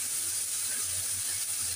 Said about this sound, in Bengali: দুটাকে একসাথে ভেজে নিচ্ছি।